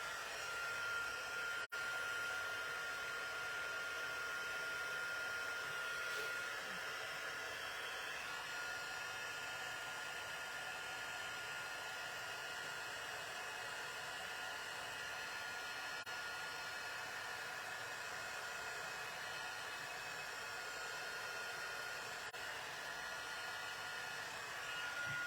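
A heat gun blows steadily for the whole stretch, melting embossing powder for gold leafing in a craft setting; a loud, even rushing hiss with no pauses and no talk.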